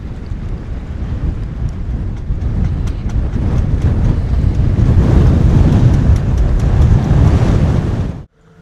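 Strong gusting wind buffets the microphone at a sailing mooring in Newtown Creek at low tide, with winds near 30 knots and water sloshing underneath; a loud, continuous roar runs steadily throughout before cutting off abruptly at the end.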